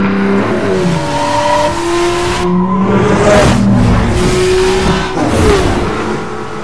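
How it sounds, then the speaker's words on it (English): A car revving and spinning its wheels at a checkpoint in Need for Speed Most Wanted, loud sustained engine whine with rising and falling pitch and tire squeal throughout. "Pull up to the checkpoint and spin your wheels"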